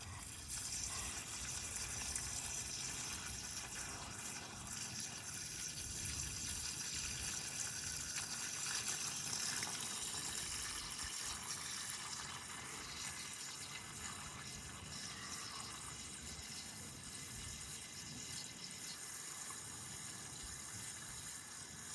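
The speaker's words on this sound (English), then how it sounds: "Yeah, you can see all the water seeping out of there." Cold water gushes and trickles steadily out of the engine of a 1957 GMC 350 truck in winter, a continuous close splashing flow with no talk.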